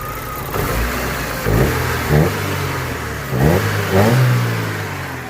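A Daewoo Lanos 1.5 petrol engine, with the EGR valve blocked off, is revved in several quick blips over a steady idle, its exhaust running smoothly and close by.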